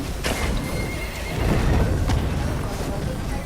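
Horses neigh and hooves clatter in a mobile war game battle, whinnies rising over busy combat noise with chatter mixed in.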